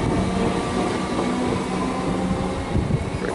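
Train departing the platform at Glenroy station in Melbourne, a steady rumbling roll of wheels and motors with a faint tonal whine, moderately close.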